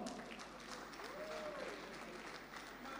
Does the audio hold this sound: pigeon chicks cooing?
no